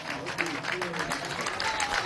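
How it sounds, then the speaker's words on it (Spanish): A crowd at an outdoor government housing handover in La Vega, Caracas claps in a brief, moderate burst while a voice talks over it through a public address system. "Un aplauso desde aquí"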